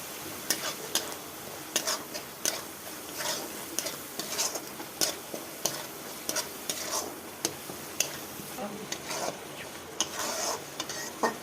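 Turmeric and chili powder stirred into a frying pan during Bengali home cooking, with a steady sizzle under repeated scraping and clinking strokes of a utensil against the pan, close and fairly rhythmic.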